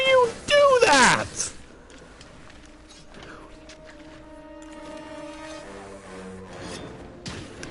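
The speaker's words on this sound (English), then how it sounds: "I should not have started sharpening my weapon right there" A weapon being sharpened in Monster Hunter World gives a loud raspy scraping burst at the start, followed by quieter game sounds and tones.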